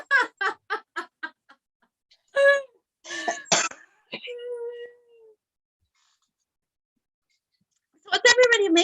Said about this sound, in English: I'm still coughing a lot.